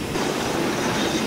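Passenger train in a rail simulator game runs at speed into Slough, giving a steady, loud rumble of wheels on track with a continuous rolling drone and no voices.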